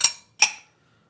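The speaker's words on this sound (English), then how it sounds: "And now we pour." Two bright glassy clinks about 0.4 s apart from a cocktail glass rinsed with absinthe as a Libertatum cocktail is served, each ringing briefly and decaying quickly into silence.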